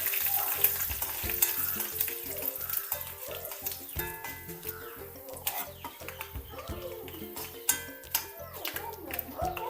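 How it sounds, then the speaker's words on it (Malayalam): Curry leaves sizzle in hot oil alongside crushed dried red chillies, tempering for a Kerala ripe mango curry; a steady close crackling fry with stirring scrapes and clinks, and a voice talks over it. "ഒരു തണ്ട് കറിവേപ്പില ഇട്ടെടുക്കുന്നുണ്ട് ഇതൊന്ന് മൂത്ത് വരട്ടെ"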